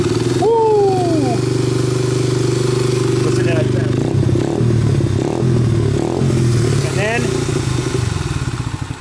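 Motorcycle-style engine with a freshly cleaned carburetor idling and being revved, loud and close, with clattering and scraping handling noises around it and a few sharp whines.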